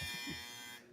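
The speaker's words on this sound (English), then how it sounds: "That's my dryer. My dryer's a noisy bitch." A home clothes dryer runs with a loud, steady mechanical drone and high whine that continues for about a second, then drops off sharply in its upper tones near the end.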